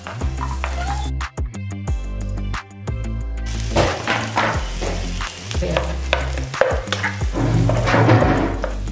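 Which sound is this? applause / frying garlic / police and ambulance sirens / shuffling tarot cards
frying garlic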